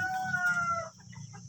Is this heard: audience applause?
no